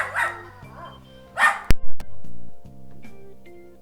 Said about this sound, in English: sorry about the dog noise